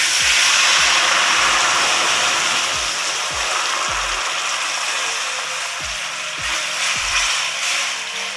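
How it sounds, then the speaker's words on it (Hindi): Jaggery syrup is poured into a pot of cooking rice, a loud, continuous sizzling hiss that fades slightly over several seconds, with soft bubbling pops scattered underneath. "अब हम इसके अंदर शरबत डालने लगे हैं।"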